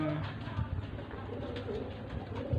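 Racing pigeons in a loft before a toss release coo softly in low repeated murmurs against a steady background, with a few brief louder coos near the start and end.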